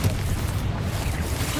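A Confringo spell blast in Hogwarts Legacy lands as a deep, sustained booming rumble with a noisy burst through the full duration, with talk around it.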